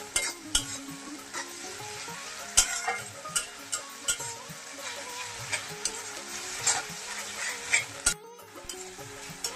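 Ginger garlic paste frying with melted tomato in a pan, a close, steady sizzle broken by sharp scraping strokes of a spatula at an irregular rhythm.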